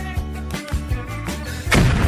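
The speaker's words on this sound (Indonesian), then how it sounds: "Nah, itu adalah ledakan coklat." Cartoon-style chocolate explosion sound effect: a few quick booming thumps followed by a louder bursting blast at the end, short and punchy.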